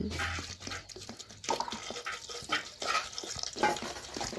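Water poured into a pressure cooker over jackfruit seeds, salt and turmeric powder: an uneven, splashing liquid rush with scattered clatters, fairly close and with no voices.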